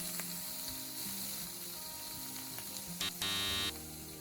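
Salmon frying in a pan gives a steady, close sizzle that runs the whole way through, with a louder crackling burst near the end.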